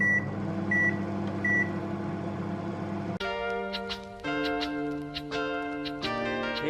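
A microwave oven runs while heating food, giving a steady drone and hum with a few short beeps early on, then a shifted, fuller whirring tone with faint clicks; no one speaks.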